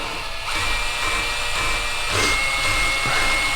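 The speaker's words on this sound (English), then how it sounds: "Now I've got my drill on low." A power drill whirs at a low, steady speed close by, its hum continuous with slight pulsing.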